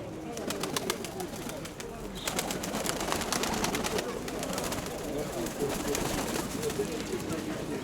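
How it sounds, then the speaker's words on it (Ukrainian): Pigeons coo softly over a busy, noisy outdoor background with rustling and scattered clicks, at a market fair in Dnipro. "Оце теж, мабуть, голубка"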